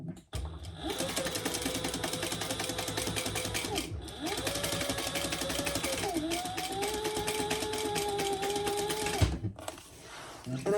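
A sewing machine back stitches across the card slots of a fabric crossbody bag, running in steady whirring bursts with short pauses between passes, close and loud.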